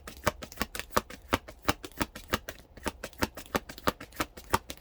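Tarot cards being shuffled close up in a quick, steady run of crisp riffling snaps, with no talking.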